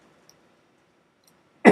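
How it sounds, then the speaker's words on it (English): A single short cough bursts out at the very end after near silence, close and fairly loud. "Now, I coughed here."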